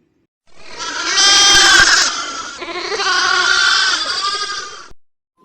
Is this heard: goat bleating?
yes